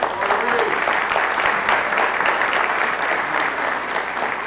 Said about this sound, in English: How about a round of applause for Corey?